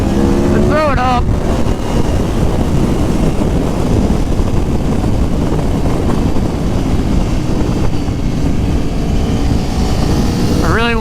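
Engine of a 2019 Aprilia Tuono Factory motorcycle roars steadily while riding, loud and close, with heavy wind noise and a rider speaking over it.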